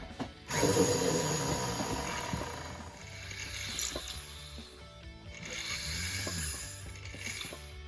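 A 2.5 mm setting burr grinds into a jewellery ring for a skull star diopside stone, a whining rotary cut with a brief gap early on, close and moderately loud, with faint tool clicks and no speech.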